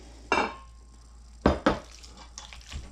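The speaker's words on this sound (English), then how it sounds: "let's give this a final stir" Stirring mac and cheese with ham and peas in a pot: a few separate scrapes and thick, wet squelches of a spoon working through the sauce, close and moderately loud with pauses between strokes.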